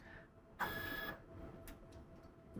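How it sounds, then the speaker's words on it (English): An i7500 industrial label printer in peel mode gives one short mechanical whir as it feeds a label out, then goes quiet apart from a faint light click, close and alone. "Tap next, and the printer will have you feed several labels out"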